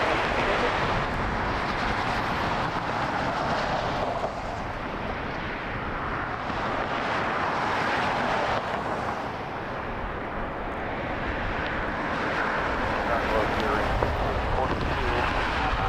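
A Spirit Airlines jet takes off from Las Vegas bound for Kansas City, a steady, broad engine roar heard from a distance that holds throughout without breaks.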